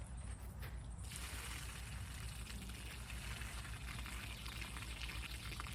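Rainwater from a storm dumped out of waterlogged pans, a continuous close splashing pour with constant gurgling and dribbling, loud and unbroken throughout with no talk.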